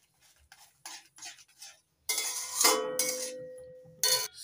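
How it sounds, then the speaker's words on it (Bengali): A spoon scrapes and clinks against a bowl while semolina sweet batter is stirred and mixed, starting with quiet scattered taps and then turning into louder, busier scraping and rattling close by. "এবার নাড়াচাড়া করে মিশিয়ে নিচ্ছি"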